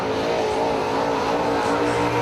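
A late model race car roars around the Dixieland Speedway track in a loud, continuous engine drone that swells slightly as it runs, with no voices heard.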